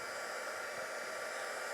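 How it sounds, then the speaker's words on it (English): A heat gun or hair dryer blows steadily to dry wet paint on a craft piece, producing a continuous loud whooshing roar that stays level for the whole stretch with no talking. "That's just a heat gun there or a hairdryer or something."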